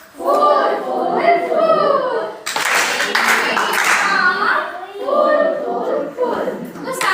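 A group at a training session gives a full round of applause, bursts of clapping that come in between a man's speech, with a louder stretch of many hands in the middle.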